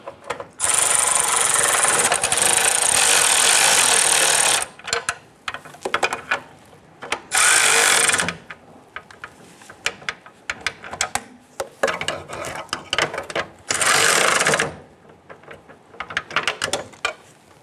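Harmonic balancer bolts on a 1997-2006 Jeep Wrangler being snugged down with a power tool, loud whirring bursts of several seconds alternating with shorter ratcheting, rubbing clatter and brief pauses, no speech.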